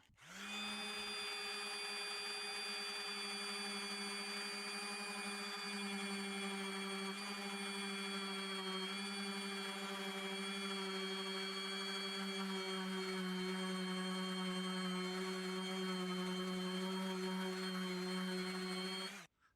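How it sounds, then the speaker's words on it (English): A power sander works a deep scratch on a car's paint, its motor giving a steady, unbroken whine at even volume for about twenty seconds with no voices. "I'm going to get started sanding this and let's get this smoothed out"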